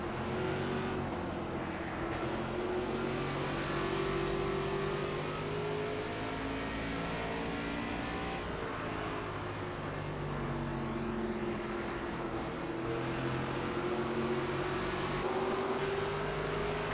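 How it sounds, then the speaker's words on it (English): ARCA race cars run at Richmond, a continuous loud engine drone with shifting pitch as cars pass and rev, sustained without a break for the whole stretch. "Car outside."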